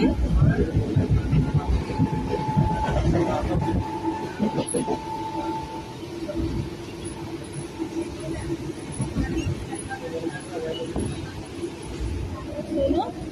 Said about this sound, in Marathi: ट्रेनमध्ये बसलेलो आहोत